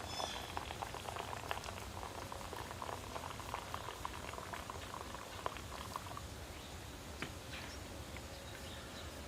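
Coffee bubbling steadily in a Tech Sport 9-cup percolator on a wood-fired Sterno single-burner folding stove outdoors, a soft continuous gurgle and patter with faint crackles throughout.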